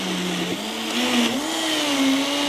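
A blender grinds vegetables for a green raw soup, its loud motor whirring close by and rising slightly in pitch as the blades chew through the mix.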